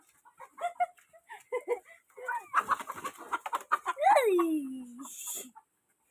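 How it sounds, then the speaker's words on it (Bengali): Chickens being fed cluck and squawk close by in short, busy bursts, with one loud drawn-out squawk near the end; people talk quietly underneath. "দেখো মুরগিদেরকে খেতে দিচ্ছি"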